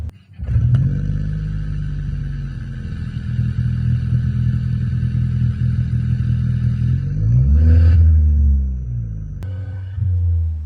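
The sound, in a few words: sports exhaust revving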